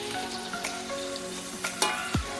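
Rendang spices frying and sizzling in a pan while being stirred, a steady close crackle with occasional scraping clinks and a brief low thud near the end.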